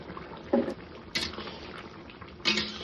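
Ghee and garam masala go into a pot of prawn and young jackfruit curry, with a few short clinks of a spoon and container against the pot, a soft liquid sizzle between them, close and without talk.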